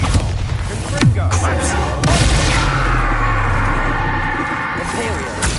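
Spell blasts in the video game Hogwarts Legacy, Bombarda and Confringo: heavy booming impacts near the start and around the two-second mark, then a dense rumbling roar of debris and combat noise that stays loud throughout.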